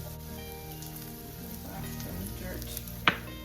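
Softened onions sizzling in a pan for a cheesy tortellini dish, a faint, steady crackle with a small clink near the end.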